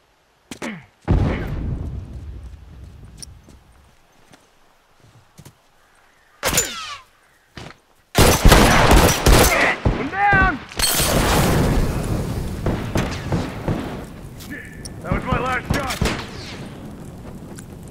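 Gunfire and heavy booms in The Last of Us Remastered: a sharp burst early, isolated loud shots around the middle, then a dense stretch of blasts and rumbling impacts with a voice speaking amid the noise.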